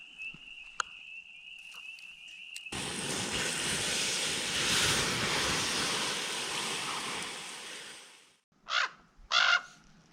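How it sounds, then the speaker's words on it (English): A raven calls loudly outdoors at a camping and fishing spot: two harsh, close croaks near the end, preceded by a long, steady rushing rumble. "Loud raven."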